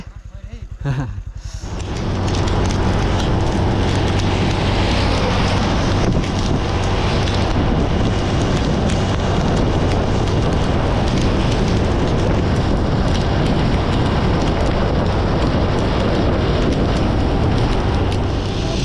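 Heavy rain pouring steadily outdoors during a cold, wet trip, a loud continuous hiss with wind-like rumble throughout, close to the microphone and drowning out other sounds.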